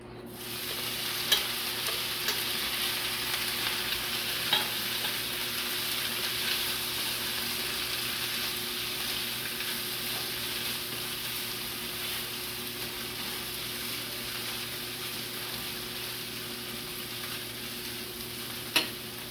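Corned beef fries in a pan for Jamaican dirty cabbage, a steady sizzle heard close with occasional sharp clicks of stirring, over a low constant hum.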